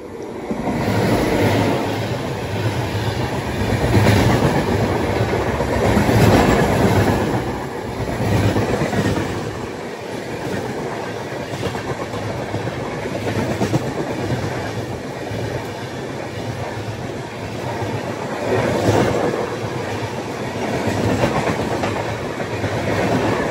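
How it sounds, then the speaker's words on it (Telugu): A train runs near Tuni station as the Secunderabad–Shalimar AC Express overtakes it, producing a loud, continuous rumble and clatter of wheels on rails that swells and eases without pause. "తునిలో ఒక ట్రైన్ అయితే మన ట్రైన్ని ఓవర్టేక్ చేస్తుంది."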